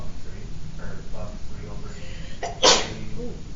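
A single sharp sneeze, loud and close, breaks in near the end of a room with voices talking quietly in the background.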